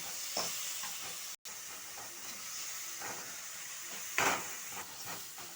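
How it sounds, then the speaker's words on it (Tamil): Tomato, onion, ginger and green chilli sautéing with salt in a pan, a soft steady sizzle and hiss under occasional scraping stirs, one louder stir near the end; no talking. "தக்காளி வெங்காயத்தில் கொஞ்சம் உப்பு போட்டு வதக்கணும்னா சீக்கிரம் கொல கொலன்னு வதங்கி வரும்"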